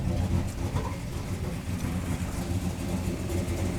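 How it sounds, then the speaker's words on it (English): A flooded Chevy 350 V8 engine runs in a continuous rough rumble, steady and fairly loud, with no clear rev peaks throughout. "I'll put the can back here and give her a couple rev blasts"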